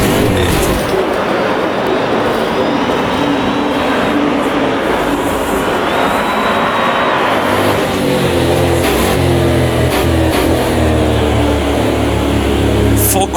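Loud, layered racing engines roar and rev in a night online race of Automobilista 2 with Audi cars, a whining tone sliding up and down as a car spins out ahead, followed by a deep droning rumble.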